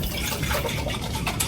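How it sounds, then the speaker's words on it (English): A little water poured into a nearly empty pasta sauce jar to rinse out the last of the sauce while cooking minestrone, a steady close splashing gush that runs continuously for a second and a half. "I'm actually going to just put a little bit of water in that jar"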